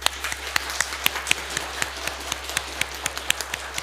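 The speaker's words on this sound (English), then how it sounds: "just stand here to get the round of applause from everyone" Audience applause for children at a New York Buddhist church, a steady patter of many hands clapping with a few sharper individual claps standing out.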